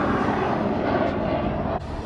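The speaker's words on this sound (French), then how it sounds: "Retour de l'hélicoptère." A helicopter returns over Las Vegas with a steady, loud rotor and engine roar that holds throughout and dips slightly near the end, with no talking.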